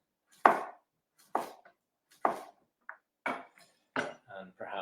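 A knife slicing cucumber on a board for a sandwich, six or seven sharp, evenly spaced chops close to the microphone with short gaps of quiet between them.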